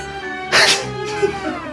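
A person imitates a sneeze for the sneezing dwarf from Snow White: one sharp, loud, close burst, then a softer breathy tail.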